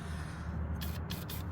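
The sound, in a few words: penetrating oil spray on rusty bolts under a Honda Prelude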